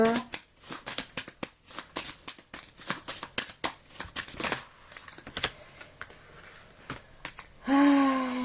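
Tarot cards are shuffled in quick riffling bursts, a crisp close flutter of repeated snaps, ending with a person speaking.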